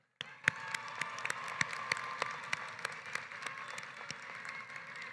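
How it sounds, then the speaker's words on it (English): Audience applause at a college commencement ceremony, beginning abruptly and continuing as steady clapping from a large crowd, with a few sharper individual claps standing out. "Let's please give another round of applause for Amina Flowerdew"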